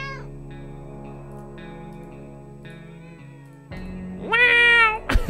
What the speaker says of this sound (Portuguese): O gatinho tá aqui!